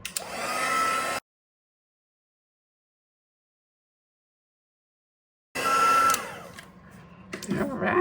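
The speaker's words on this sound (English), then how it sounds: "gonna heat these up, melt my powder, and fast forward while I do it" Heat tool blowing steadily while melting embossing powder on a handmade flower card, a loud continuous airy whir that cuts out after about a second and resumes near the end.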